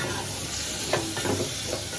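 Wet cashew curry with potatoes is stirred in a pan, a steady close sizzle carrying soft scraping strokes of a spoon through the mixture.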